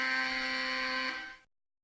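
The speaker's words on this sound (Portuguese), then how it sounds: "Esse alarme é público." A public alarm buzzer sounds one loud, harsh, steady tone that holds for over a second and then cuts off into silence.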